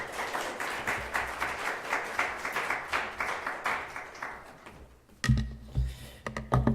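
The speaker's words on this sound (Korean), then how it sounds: "박수로 한번 환영합시다." A church congregation claps in rhythmic welcome for a visiting missionary, the applause fading after about five seconds and giving way to bumps and shuffling.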